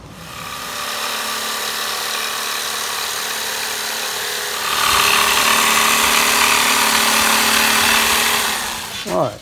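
Power tool cutting out a shifter console board for a 1967 Ford pickup interior, with a steady, loud mechanical whine that grows harsher midway and stops abruptly at the end.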